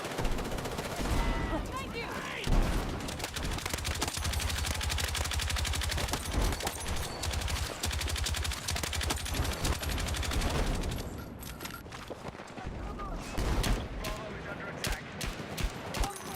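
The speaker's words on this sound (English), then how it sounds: "The L110 is one of the best LMGs" L110 light machine gun in Battlefield 6, firing long rapid automatic bursts at close range with dense, steady cracks, then a brief pause and more bursts, with battle noise around it and voices talking over it.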